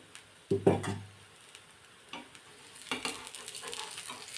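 Cucumber thalipeeth frying in a little oil in a pan, a brief loud sizzle as the oil hits, then faint crackling and occasional clicks close by without speech.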